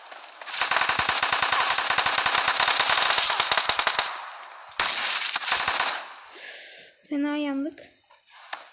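Gunfire in the PUBG Mobile game comes as loud bursts of rapid automatic shots, first a long run, then a shorter burst after a pause. A voice is heard briefly near the end.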